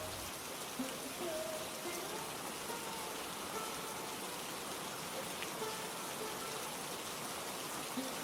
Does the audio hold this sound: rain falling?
yes